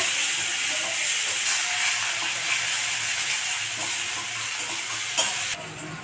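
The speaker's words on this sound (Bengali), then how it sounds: "এবার আমি পেঁয়াজগুলোকে দিয়ে দেবো পেঁয়াজগুলোকে লাল করে ভেজে নেব" Chopped onions fry in hot oil with whole garam masala and cumin, a dense, continuous sizzle and hiss close by with occasional stirring, dropping slightly near the end.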